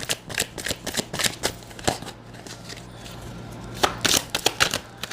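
Tarot cards shuffled by hand in a series of crisp riffling bursts and flicks, close and fairly quiet, with brief pauses between the runs and a faint steady hum underneath.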